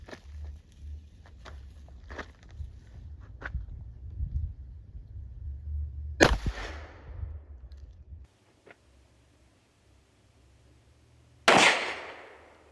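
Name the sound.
gunshot from Charter Arms .38 Special revolver, full metal jacket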